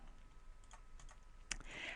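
Fingers tap on an unfamiliar computer keyboard while working through a math tutorial, producing a few faint, close, irregular key clicks, with a slightly sharper clack near the end.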